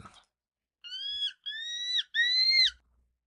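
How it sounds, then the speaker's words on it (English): An eagle cry sound effect: three drawn-out, high, screeching calls in steady succession, loud and close, with silence between them and nothing else around. "We want an eagle? Eagle sound effect?"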